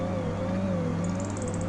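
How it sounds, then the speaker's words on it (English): A car creeping slowly in Farming Simulator 25, its engine a steady low drone with a wavering tonal whine, loud and continuous throughout. "The car sounds like he's having such a hard time going that slow,"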